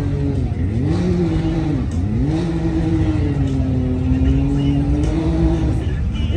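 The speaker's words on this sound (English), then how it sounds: "Twin engine turbo racer." A twin-engine turbo RZR side-by-side racer idles and revs at a mud racing event, its loud, close engine drone rising and dipping in pitch with a couple of throttle blips, with voices mixed in.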